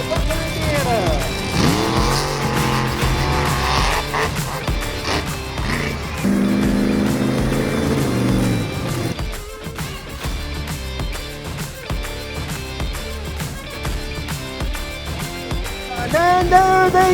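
Monster trucks racing in the finals of a Butler, Indiana show after the green flag, loud engines roaring and revving with tire noise, shifting pitch as the trucks charge, over a crowd and announcer talking throughout.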